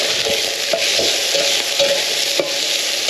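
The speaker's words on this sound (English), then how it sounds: "But I'm browning it up." Nearly a pound of ground hamburger browns in olive oil for turnip stew, a loud, dense, continuous sizzle heard up close with a few scraping stirs of the spatula and no voices.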